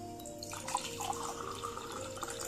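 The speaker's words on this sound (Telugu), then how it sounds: "ఇప్పుడు 2 గ్లాసులు తీసుకుంటున్నానండి. ఇందులో నీళ్లు తీసుకుంటున్నాను." Water is poured into two drinking glasses for a simple demonstration, giving a faint, steady trickle and splash with a few soft drips, close by but quiet, and no talking.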